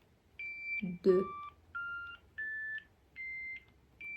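A handheld Nira Pro beauty laser emits a series of short, clear electronic beeps while its intensity level is being set, four or five evenly spaced tones up close, with a brief spoken word over one of them.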